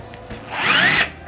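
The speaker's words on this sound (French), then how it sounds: "je perce d'autres trous-pinottes dans le cadrage" A power drill bores pilot holes into a wooden interior door frame, giving one short, close whine that swells for about a second and then stops.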